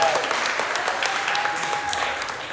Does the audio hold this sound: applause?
yes